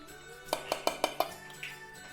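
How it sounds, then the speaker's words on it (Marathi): Mixed wet bhel being transferred into a serving dish, five quiet evenly spaced clinks of a spoon against the dish followed by a softer tap. "तर आता मी हे डिशमध्ये काढते"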